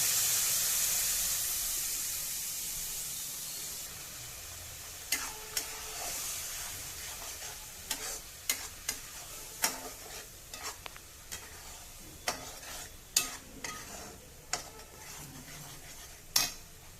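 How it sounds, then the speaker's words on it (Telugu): A faint, steady sizzle of spice paste frying in oil, with a ladle scraping and tapping the pan at irregular intervals. "ఈ పేస్ట్ని ఆయిల్లో వేసుకుందాం"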